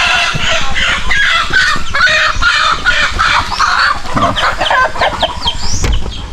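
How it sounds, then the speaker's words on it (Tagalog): Free-range chickens on a farm cluck steadily and close by, with a rooster crowing toward the end over the dense, busy flock noise. "Yan, may mga manok dyan."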